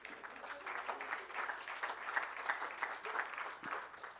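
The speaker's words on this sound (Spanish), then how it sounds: "Denle un aplauso a Dios, hermano." A church congregation at a Sunday school service claps together in a steady round of applause, quiet and somewhat distant, with a brief low thump near the end.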